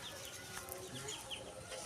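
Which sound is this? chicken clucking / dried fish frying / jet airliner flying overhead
chicken clucking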